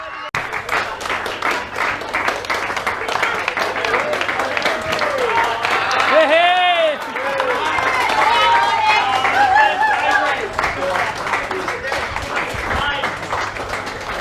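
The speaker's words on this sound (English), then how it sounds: "You can hear the crowd." Football crowd at an elimination final erupts in cheers and applause after a goal kick, a dense roar with clapping and scattered shouts and whistles, close and loud, with voices calling out throughout.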